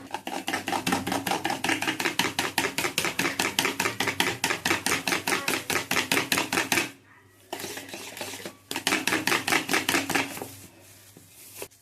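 Brownie batter is beaten hard by hand, with fast, even, rhythmic clacking strokes close by. The beating breaks off briefly twice and then resumes, and nobody talks.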